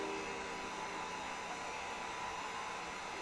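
A heat gun blows hot air onto cosplay material, a constant loud rushing whir that fills the whole stretch without pause and with no voices.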